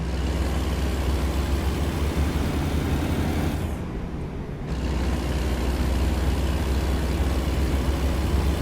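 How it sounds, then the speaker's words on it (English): Heavy truck engine in American Truck Simulator droning steadily and loudly throughout, with a brief dip in the middle before the rumble resumes, no voices. "I just want everybody to hear that engine."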